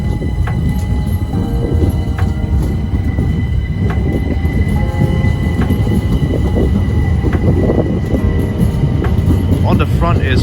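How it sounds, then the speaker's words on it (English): A Southeastern passenger train, unit 376029 on the 1518 service to Hayes, departs Orpington station with a steady loud rumble of wheels on rail, faint squeals and clicks, and platform announcements over it. "Departing now is the 1518 Southeastern service to Hayes."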